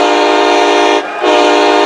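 A heavy 6,000-ton train blasts its horn up close, a loud sustained chord that drops off for a moment and then blares again.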